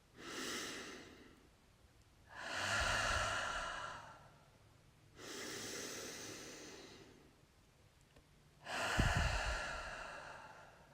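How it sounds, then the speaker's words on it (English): Four slow, deep breaths during a facial yoga relaxation, each a loud, airy inhale or exhale lasting about two seconds with short pauses between, close and alone without talk. "take a deep breath in and out"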